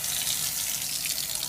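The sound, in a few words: kitchen faucet water running into sink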